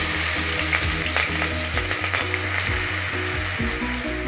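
Crushed ginger, garlic and green chilli frying in hot oil for a Kerala-style mutton biryani: a steady, close sizzle with light stirring clinks and no voices.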